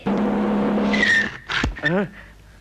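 A car brakes hard to a stop at a speed breaker, with a short tyre screech and skid amid engine noise, and a voice speaks briefly over it.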